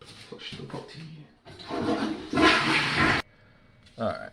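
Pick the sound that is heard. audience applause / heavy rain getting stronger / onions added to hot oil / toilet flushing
toilet flushing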